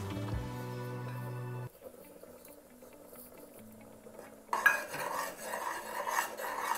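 A spoon stirs a rice flour mixture in a pan over a low flame, producing soft, quiet scraping and clinking that pauses briefly, with a faint simmer and a louder burst of stirring near the end.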